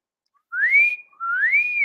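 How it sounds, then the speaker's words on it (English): Two rising-then-steady whistled notes, each lasting under a second, separated by a short gap, as people in a studio whistle on request; clear and fairly close with no talking. "Oh, that's a good whistle."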